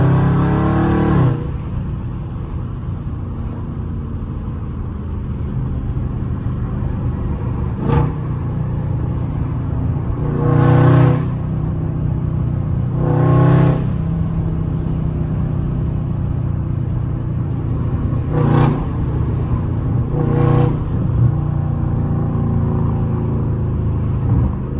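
A Scat Pack car engine rumbles steadily nearby in traffic, with several short revving bursts spaced through the recording; no talking.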